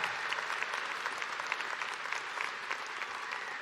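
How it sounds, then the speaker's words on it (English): A graduating crowd at the Clark College 2022 commencement breaks into a brief burst of dense applause, heard at a distance and fairly quiet, with many hands clapping at once. "thank you for that applause"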